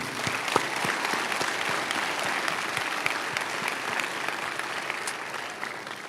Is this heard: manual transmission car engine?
no